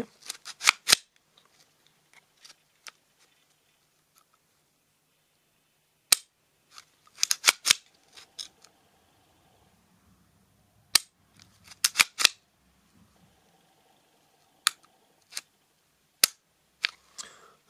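Sharp mechanical clicks from the trigger of an FN 502 pistol working through its long reset, coming in separated bursts of two or three close, crisp snaps with quiet pauses between them.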